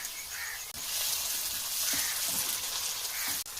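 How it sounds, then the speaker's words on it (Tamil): Finely chopped tomatoes added to a pan of browned onions in hot oil while cooking a black-eyed pea kulambu, giving a steady, close sizzle and crackle with a few brief clicks of stirring. "2 தக்காளியை பொடியாக கட் பண்ணி வச்சுருக்கோம், அதையும் உள்ள சேர்த்துருவோம்"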